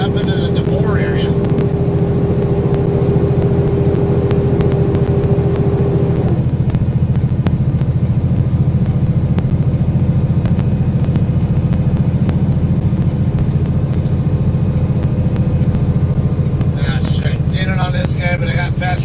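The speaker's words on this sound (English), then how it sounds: "I got at least three faster trucks in a row passing me." Several faster trucks pass one after another on a California highway, heard from inside a moving truck cab as a steady loud road rumble and engine drone, with a pass-by whoosh rising near the end.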